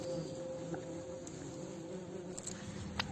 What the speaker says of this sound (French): deuxième petit nid de guêpes de la journée